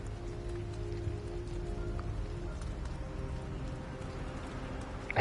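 Steady heavy rain from the video game Detroit: Become Human, a dense even patter with low rumbling underneath that holds at constant loudness throughout, with no talking over it.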